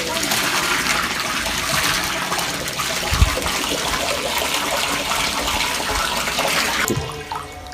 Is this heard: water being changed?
yes